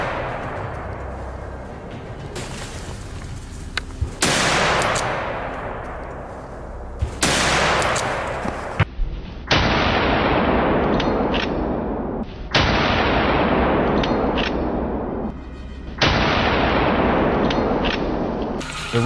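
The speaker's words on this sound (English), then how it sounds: "Without hesitation, a rapid burst of gunfire erupts" Repeated loud bursts of rapid gunfire at wild boars, each several seconds long, separated by brief pauses, close and harsh with no voices.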